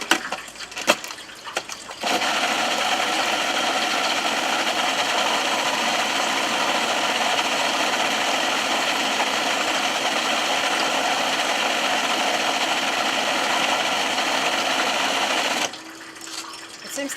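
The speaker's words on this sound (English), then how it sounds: "I do use my food processor quite a lot." A food processor blending hummus: a steady, loud motor whir with a churning, wet grind that starts abruptly after a brief pause, runs evenly for about thirteen seconds, then cuts off.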